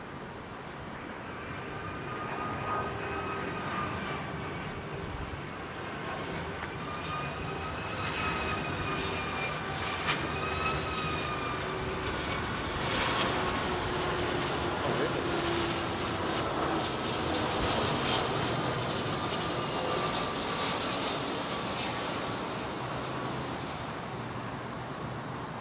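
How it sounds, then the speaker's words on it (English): Boeing 757 with RB211 turbofan engines on approach to Heathrow, a steady loud jet roar with rising whine that swells and holds through the whole stretch, no talking. "We always welcome a 757 on the show, don't we? RB211 Turbo fans."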